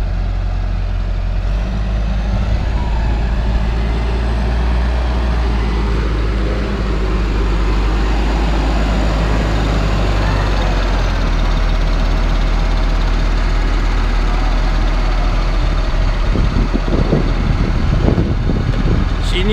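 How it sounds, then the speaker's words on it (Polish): ARBOS P240 tractor engine running steadily up close, a loud continuous low diesel drone with a rumbling throb that holds for the whole stretch, joined near the end by some knocking and clattering sounds. "Silnik pięknie chodzi."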